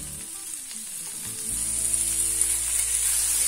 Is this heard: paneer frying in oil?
yes